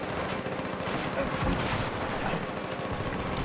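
Sustained gunfire from Call of Duty: World at War during a Red Army campaign battle, dense and continuous with bursts overlapping throughout, loud and busy with no clear gaps.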